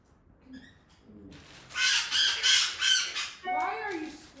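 Pet bird Pesto lets out a run of loud, harsh squawks in a rapid burst, close by, after a few softer chirps; a person speaks briefly near the end.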